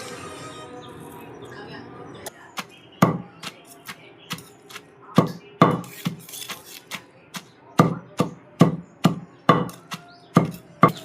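Coconut chutney is ground with salt, making sharp, rhythmic thuds about twice a second after a short quieter stretch at the start, with a voice talking alongside.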